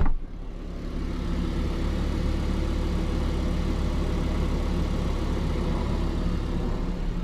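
Lamborghini Huracan Sterrato with a 5.2-liter V10 idles steadily just after a cold start, a deep, continuous low rumble heard from outside the car, loud and unbroken with no voices over it.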